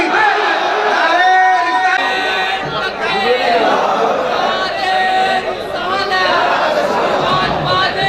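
A large gathered crowd chants the Nara-e-Takbir slogan at a religious gathering, voices loud and massed in a rolling, rhythmic call and response that fills the space.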